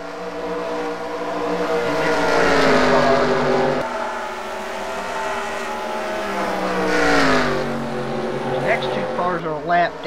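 Race cars roar around the Bristol track during a heat race, loud engine drones rising and falling in pitch as the cars pass, with a commentator talking over them.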